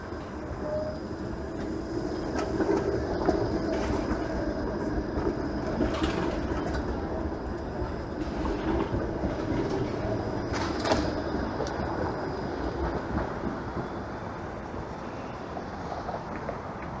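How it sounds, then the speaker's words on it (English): A Toronto streetcar turning on Dundas Street East in the city, giving a steady rumbling roll with occasional metallic clanks and squeals, heard continuously at moderate volume. "And the streetcar is turning north."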